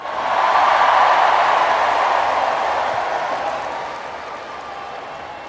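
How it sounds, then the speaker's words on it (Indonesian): Sustained applause from a large audience at a National Teachers' Day address, with dense, even clapping that swells early, holds steady, then gradually thins toward the end. "Tepuk tangan untuk Menteri Keuangan yang paling keras."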